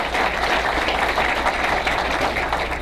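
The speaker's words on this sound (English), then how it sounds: "give Mark a huge round of applause for that" An audience applauds at a live business presentation, a steady wash of many hands clapping at fairly constant loudness through the whole moment.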